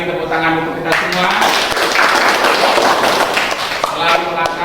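A class of high school students clapping their hands together during a biotechnology lesson, a dense steady patter of many hands lasting several seconds, with voices talking over and between the claps.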